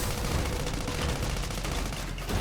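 Rapid machine gun fire from a robot's gun-arm in the video game Sand Land, a dense, continuous burst of shots with game sound effects layered over it, loud and steady throughout.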